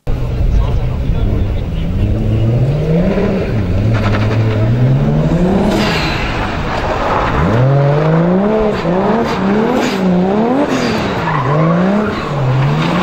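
A Japanese race car drives hard at speed, its engine rising and falling through repeated revs and gear changes, with tires squealing. The engine noise is loud and continuous, and there are brief hints of voices.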